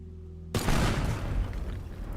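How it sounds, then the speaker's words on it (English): A sudden explosion from gunfire in the video game Teardown, with a sharp loud onset bursting into a broad roaring boom and then rumbling debris that decays slowly, heard over a low background tone, with no talking. "That was a pretty good explosion."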